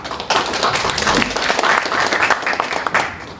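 A crowd at an ESG economic forum breaks into loud applause to welcome a speaker, dense clapping that holds steady for a few seconds and then fades out.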